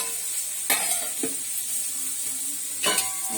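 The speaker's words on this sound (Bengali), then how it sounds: "আর এখানে তো দেখালাম আলু ভাজা করেছি" Potatoes frying in a home kitchen pan, a soft steady sizzle broken by a few sharp scrapes and clinks of a spatula stirring, quiet and close with no talking.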